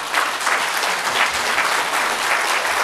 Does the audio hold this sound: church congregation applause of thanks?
yes